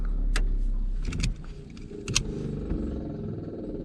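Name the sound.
truck transmission spinning after engine shutoff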